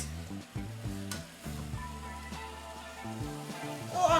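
Onions sizzling in olive oil, a faint hiss and occasional stir clicks sitting beneath a louder music track, with no talking.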